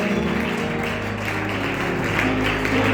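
A church congregation claps for the Lord in a sustained, moderately loud burst of applause, with low sustained musical tones humming beneath it.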